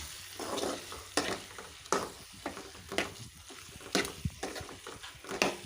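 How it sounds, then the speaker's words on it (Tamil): Dried shark fish and ground chilli paste sizzle in a pan as a spoon stirs them, scraping and knocking against the metal in repeated close strokes roughly once a second. "நல்லா மிக்ஸ் பண்ணிக்கலாம் இப்போ வந்து நல்லா மிளகாத்தெல்லாம் மிக்ஸ் பண்ணிட்டோம்"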